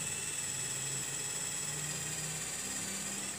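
A J.LD tools 12V cordless mini drill bores an 8 mm hole into very hard ironwood (ulin), giving a steady, high-pitched motor whine with a faint low hum beneath.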